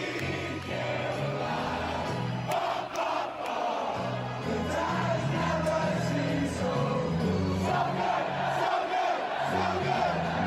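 A stadium crowd of Red Sox baseball fans sings a song together: a loud, continuous mass of voices with a rough melody that carries through the whole stretch.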